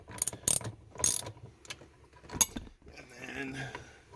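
Metal clicks and ratchet-like clatter from a 13 mm socket and open-end wrench breaking loose the e-brake adjuster nuts on a Ford Focus Mk3, several sharp close bursts followed by a softer scraping rattle.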